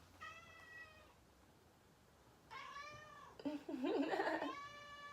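A cat meows several times close by, the later calls louder and more drawn out, with a brief strained cry among them.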